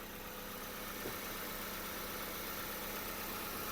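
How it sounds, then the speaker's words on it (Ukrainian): Steady, low hum of a Hyundai Tucson engine idling, even and unbroken throughout, heard from close by with no talking. "двигун працює гарно, чітко"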